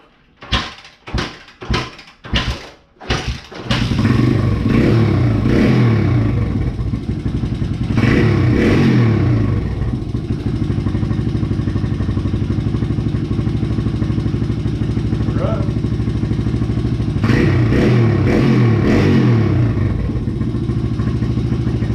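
A Honda XR100R pit bike opens with a few sharp clattering knocks, then its small single-cylinder engine fires and runs steadily close by, blipping the throttle into short revs twice before settling back to idle.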